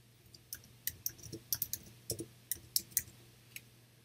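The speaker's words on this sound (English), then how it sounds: "click and drag" Sharp computer mouse clicks in short irregular bursts while a text box is dragged in a word processor, crisp and close with a faint steady hum beneath.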